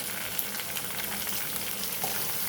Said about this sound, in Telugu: ఆనియన్స్, పచ్చిమిర్చి వేసేద్దాం.